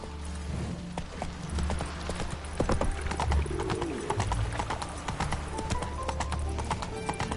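Horse hooves clip-clop at a walking pace on a hard surface, close and fairly loud, with faint bird calls in the background.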